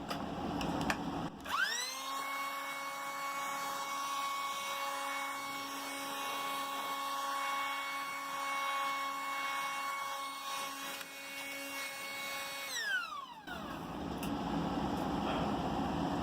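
Electric computer duster blowing sawdust off a workbench, a loud high-pitched whine that spins up quickly, holds steady for about eleven seconds, then winds down.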